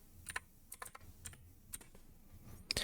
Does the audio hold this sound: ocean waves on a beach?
no